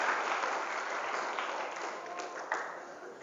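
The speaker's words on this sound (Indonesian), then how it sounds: "Tepuk tangan dong buat Septa." An audience at a motivational seminar in an Islamic boarding school claps for a participant, a dense, moderately loud round of applause that fades gradually, with a few sharper claps near the end.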